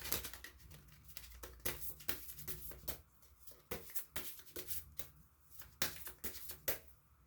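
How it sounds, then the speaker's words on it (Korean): Tarot cards being shuffled and drawn for a couple's love reading, heard as a steady run of soft, close papery riffles and flicks with brief pauses, faint overall and without talk. "그럼 조언점 카드도 뽑아보도록 하겠습니다"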